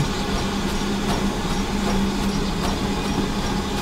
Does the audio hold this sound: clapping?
no